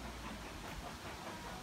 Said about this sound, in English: Hear the steam train in the background there.